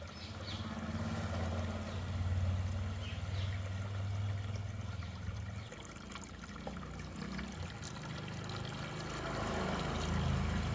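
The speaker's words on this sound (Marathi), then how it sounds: "आता मी ह्यात हे पाणी चालू केलेलं आहे" Tap water runs steadily into a large tub holding an 8-inch potted water lily, a continuous pouring rush with a deeper gush that eases after a few seconds into a softer trickle.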